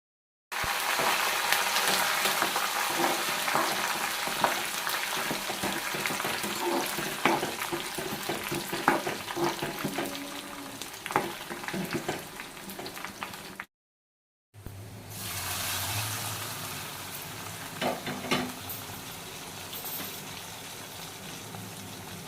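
Tempering spices sizzle and crackle in hot oil on a low flame, a dense continuous frying hiss with occasional stirring, briefly cut off once before the sizzle resumes.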